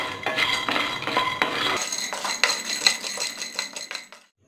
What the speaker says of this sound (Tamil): லோ ஃப்ளேமில் வச்சு நிலக்கடலை எதுவும் தீஞ்சிடாத அளவுக்கு வறுத்துக்கோங்க